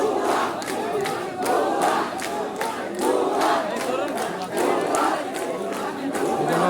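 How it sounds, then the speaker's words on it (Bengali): Students chant a repeated slogan inside a police station in Nakla, Sherpur, a loud crowd of voices rising and falling in a steady rhythmic pattern with close shouting throughout. "থানার ভিতরে ঢুকে স্লোগান দিতেছে ভুয়া ভুয়া"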